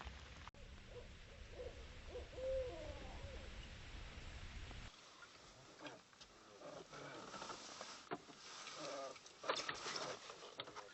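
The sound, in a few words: owl hooting from a tree limb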